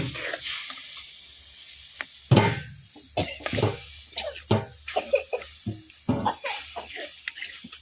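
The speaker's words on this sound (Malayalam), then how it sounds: "വെള്ളം ആവശ്യത്തിന് ഒഴിച്ചു കൊടുക്കാം." Water is poured into a hot cooking pan of roasted spice powders, bursting into a splashy hiss, followed by intermittent sizzling bubbles and stirring scrapes at moderate volume.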